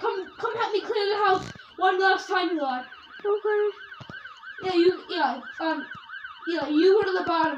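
An ambulance siren in the Brookhaven video game wails in a fast repeating up-and-down pattern throughout, running under near, frequent talking by players.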